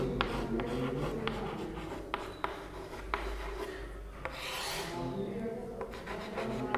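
Writing on a board during a maths lesson gives faint, intermittent scratchy strokes and a few light taps, with one longer rubbing swipe partway through, under a steady background hum.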